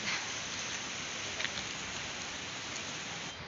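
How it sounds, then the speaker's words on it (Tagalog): Steady, soft hiss of light rain falling continuously, with a faint brief voice in the background. "Umuulan guys, pero hindi naman masyadong malakas."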